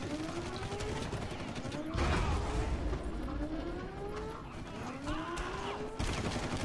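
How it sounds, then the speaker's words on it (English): Rapid game gunfire from the Far Cry series crackles in dense bursts at close range, with repeated swelling shots and clattering mechanical noise filling the whole stretch. "I'm trying to shoot like everything at this point."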